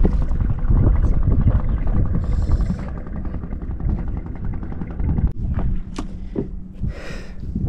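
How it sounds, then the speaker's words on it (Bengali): A fishing boat's engine drones steadily on the open sea off the Andamans, a broad rumbling wash that eases slightly as the boat moves past, followed by a few sharp knocks and clatters close by. "একটা বোট এখন টাচ করবে আর একটা বোট বেরিয়ে গেল"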